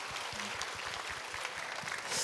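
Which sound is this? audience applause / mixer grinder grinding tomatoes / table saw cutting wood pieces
audience applause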